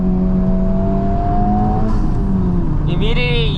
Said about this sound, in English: One is the very annoying fake engine noise.